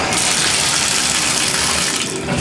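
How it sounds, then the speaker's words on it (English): Hotel shower running at a Travelodge in Simcoe, Ontario, a loud steady hiss of spraying water, close and continuous with no talk over it. "Let's turn on the shower."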